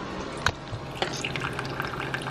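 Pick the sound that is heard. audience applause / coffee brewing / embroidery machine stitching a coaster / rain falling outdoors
coffee brewing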